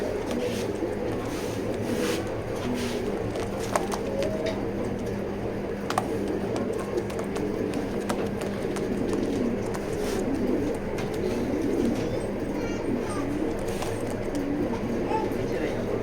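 Pigeons, including female birds shown at a pigeon loft, coo in soft low repeated calls under a steady mechanical hum and background noise, while someone talks over them.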